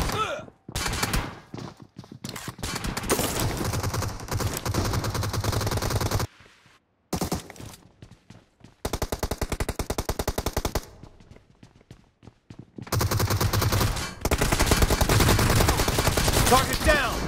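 Gunfire in PUBG Mobile, played on an iPhone 13 Pro: long rapid bursts of automatic fire separated by brief pauses, loud and close, with a faint voice now and then.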